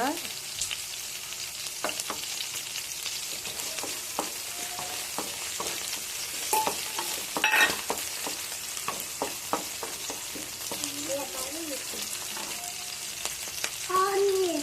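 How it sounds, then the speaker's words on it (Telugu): Green chillies frying in oil in a pan, a steady close sizzle with occasional stirring scrapes and small pops, running alone throughout. "పచ్చిమిర్చి ఫ్రై అయ్యాక"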